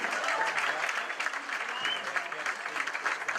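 Steady, dense applause from a large audience at a charity gala ball, continuous and fairly loud throughout with no pauses.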